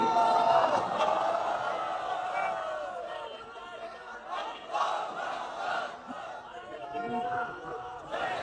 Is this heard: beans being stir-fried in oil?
no